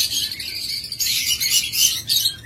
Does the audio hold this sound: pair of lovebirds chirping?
yes